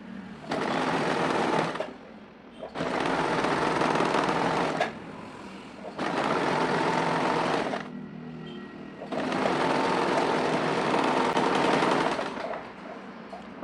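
A sewing machine stitches a folded sleeve hem in four long, loud, steady runs of rapid mechanical whirring, separated by short pauses, close by, with no talk.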